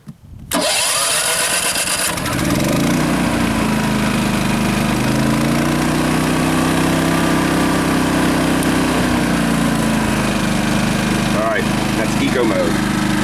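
A Champion dual fuel generator starts on propane and settles into a loud, steady mid-pitched engine drone that runs continuously and close by.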